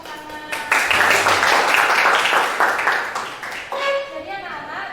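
Classroom of children clapping together on cue, a burst of hand claps lasting a few seconds with voices of kids mixed in before it fades.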